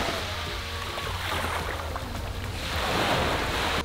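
Ocean waves wash onto a Maldives resort beach in a continuous roar of surf, swelling louder toward the end, with wind buffeting the microphone.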